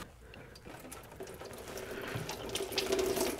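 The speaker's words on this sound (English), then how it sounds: "So we can pop that hose off and drain our inverter cooler." Coolant pours from a disconnected inverter cooler hose on a 2004-2009 Toyota Prius into a catch pan, a close splashing trickle that grows steadily louder and fuller.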